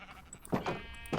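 A sheep bleats in the Minecraft video game. Two short blocky calls sound near and clear over a quiet background in a brief moment of gameplay.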